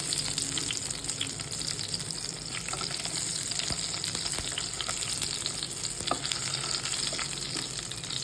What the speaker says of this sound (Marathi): कढईमध्ये तेल गरम केलं आता याच्यामध्ये वांगे आपण थोडासा याला चटका देऊन घेऊया चटकून घेऊया